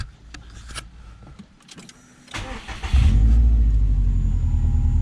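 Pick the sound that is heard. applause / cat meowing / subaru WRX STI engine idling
subaru WRX STI engine idling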